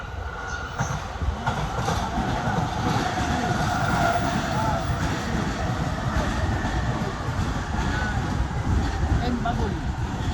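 A train passes on a Japanese rail line, continuous rumbling rail noise with rhythmic clatter of wheels and a faint squeal layered on top, steady and fairly close throughout.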